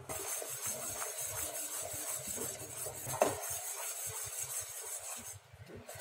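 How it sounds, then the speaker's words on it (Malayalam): Homemade sugar wax bubbles in a pan while a metal spoon stirs it, scraping and clinking repeatedly against the pan over a faint steady hiss. "നമ്മളപ്പോൾ നന്നായി ഇളക്കിക്കൊണ്ടിരിക്കുക."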